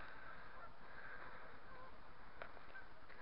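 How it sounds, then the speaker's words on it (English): Geese honking at a Scottish wildlife reserve, a steady distant chorus of calls running throughout with no talk over it. "The geese just make a constant noise."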